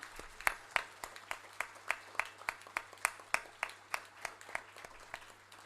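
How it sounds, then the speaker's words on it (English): Audience at a live launch event for an AI report applauding impact creators, a steady run of sharp, evenly spaced claps close by, with no talk over it. "Let's give them a round of applause for the amazing initiatives that they have taken."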